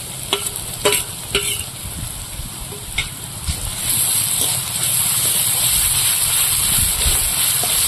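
Chopped onion and garlic frying in oil in a pan for a mourola fish curry, with a steady close sizzle, a few early spatula clicks and scrapes, and a frying hiss that swells louder halfway through.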